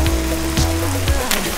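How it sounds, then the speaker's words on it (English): Steady rain falls in a jungle, a dense even patter of drops on surfaces, with a low hum underneath and a few brief louder spatters, close and continuous. "I'm sick of being in the rain. Always rains in the jungle for no good reason."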